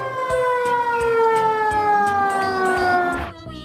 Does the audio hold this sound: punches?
no